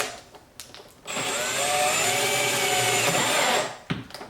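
A power drill bores holes in the end of a Z06 Z07 conversion wing on a C8 Corvette, one steady close whine lasting a few seconds, with brief handling clicks before and after.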